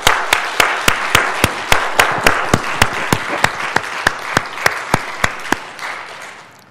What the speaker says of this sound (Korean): 우리 뜨거운 박수로 하나님께 영광과 감사를 함께 올려드리시면 좋겠습니다